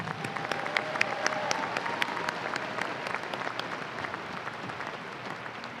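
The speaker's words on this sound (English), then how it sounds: "Let's give them, once again, a round of applause." An audience at a university commencement ceremony gives the graduating students a sustained round of applause, a dense, even wash of many hands clapping with a few sharper claps standing out.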